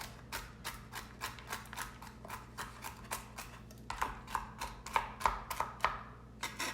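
Walnuts chopped with a flat-bladed knife on a board, giving a steady run of crisp, close knocks about two or three per second that grow louder and sharper toward the end, with no talking.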